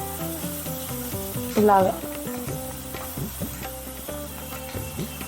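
Ginger paste sizzles in hot oil while frying for a crab curry, a steady crackling hiss with stirring clatter, as someone speaks briefly over it.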